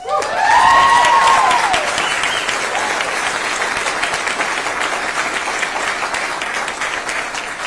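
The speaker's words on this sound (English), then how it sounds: "It is cause for claps" An audience bursts into sustained applause during TEA Commissioner Mike Morath's talk on new school accountability ratings. A short whistle-like tone rises at the start, then steady, dense clapping runs close and loud for several seconds.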